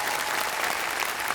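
Brief burst of audience applause in the studio of a televised singing competition, dense, even clapping throughout with no voices over it.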